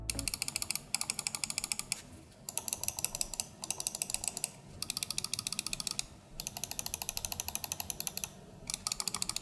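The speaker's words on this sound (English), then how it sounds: "The switches on these are the Omron D2FC, and they have a thin clicky sound." Logitech G304 wireless gaming mouse with Omron D2FC switches clicking rapidly in long rhythmic runs, thin and crisp, close up, with brief pauses between bursts and no talking.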